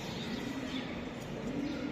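Chila high-flyer pigeons cooing softly in a low, repeated murmur, close by and faint against steady background noise.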